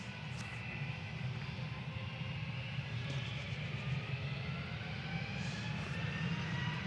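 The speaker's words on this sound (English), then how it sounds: "Shuttle 3 Papa departing back down to Heathrow" A jet departing Manchester Airport for Heathrow gives a fairly faint, steady engine rumble with a low hum underneath, continuous throughout.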